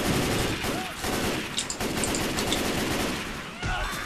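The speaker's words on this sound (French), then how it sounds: "Lui, il tire sur tout ce qui bouge." Rapid automatic gunfire from the character Louis shooting in Left 4 Dead 2 during the Blood Harvest campaign, a dense sustained burst of game shots with a few sharper cracks.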